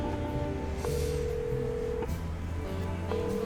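Tones sound from a telephone being dialed in the video game Chicken Police: steady beeping tones that shift pitch across a run of digits, heard clearly over a constant background hum, with no speech.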